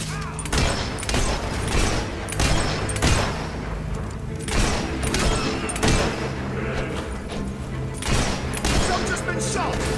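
Gunfire in the video game Fable III, repeated booming shots at uneven intervals across a busy battle scene, with game noise and voices mixed in.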